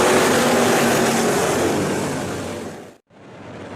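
Street stock race cars roaring past at Boomstown Speedway, a loud sustained engine and tire roar that slowly fades, cuts off briefly, then returns.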